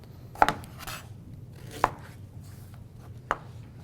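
A knife chops root vegetables on a cutting board, three sharp, well-spaced thuds over a quiet low hum, with no talking.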